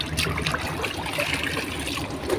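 Water streaming and trickling off hand-washed clothes lifted out of a bucket of rinse water after a washing machine, a steady close splashing dribble throughout.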